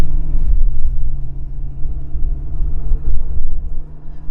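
Low, steady road rumble inside a moving car, a deep droning hum with slight swells and no talking.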